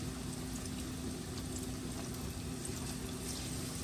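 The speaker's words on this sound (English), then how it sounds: "Well, nice hot oil. Slide it in." Plantains fry in hot oil, a steady, even sizzle and hiss that stays faint and constant throughout with no voices.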